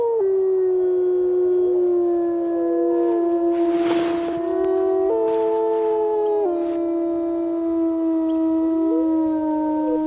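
Several wolves howl together in long, sustained, overlapping tones that slide up and down in pitch, loud and continuous with no talking.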